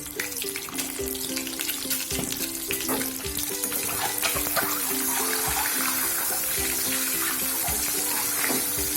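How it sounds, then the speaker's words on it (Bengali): Eggs fry in oil with salt and turmeric for an egg curry, a bubbling, crackly sizzle heard close up and continuously, with a faint tonal hum underneath and no speech. "ডিমটা আস্তে আস্তে ভাজা হতে থাকবে"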